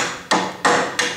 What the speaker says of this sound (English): I'm tapping them up with a lead hammer because they're a little bit stiff.